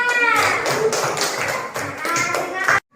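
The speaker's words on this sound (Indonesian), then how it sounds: "kasih aplaus untuk temannya" A classroom of schoolchildren clapping for a classmate, a loud burst of dense hand claps mixed with young voices that cuts off abruptly after a few seconds.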